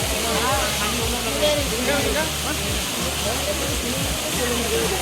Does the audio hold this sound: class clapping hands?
no